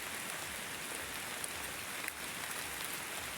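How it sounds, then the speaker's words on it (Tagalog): Steady rain falling on a surface, a dense even hiss with occasional louder drops, continuous and moderately quiet. "Sana, Kanter, tumigil na tong ulan para makapag-hunting na tayo."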